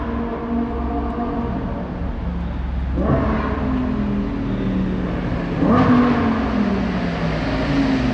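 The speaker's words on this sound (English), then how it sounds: "The Huracan Performante Spider is on its way, along with the loudest Mustangs of this event is on its way." A Lamborghini Huracan Performante Spider and loud modified Mustangs drive on a race track, their engines a steady roar with two clear upshifts and passes, rising and falling at moderate distance.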